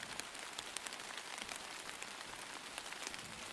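Steady rain falling on the ground, a dense, even hiss of countless drops with faint scattered taps, moderately soft and continuous with no voices.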